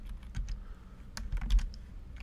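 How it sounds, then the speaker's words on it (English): Computer keyboard typing and mouse clicking while working in an Excel spreadsheet, heard as quick clusters of close, light taps and clicks with short pauses between bursts. "I apologize for all the clicking and typing."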